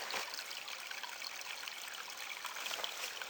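Blakeburn Creek flowing through forest, a steady close rush and trickle of water with a few brighter splashy surges, continuous throughout with no voices.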